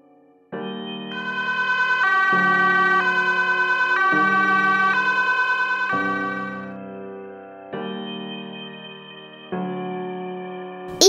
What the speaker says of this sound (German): Da kommt der Krankenwagen.